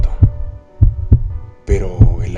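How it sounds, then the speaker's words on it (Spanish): Slow, booming heartbeat effect in a Spanish reading of Poe's The Tell-Tale Heart: a few loud, deep thumps alone, then a thicker pulsing stretch with a humming overtone near the end. "Pero el latido era cada vez más fuerte"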